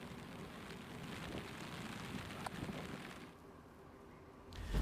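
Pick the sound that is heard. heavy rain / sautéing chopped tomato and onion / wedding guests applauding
heavy rain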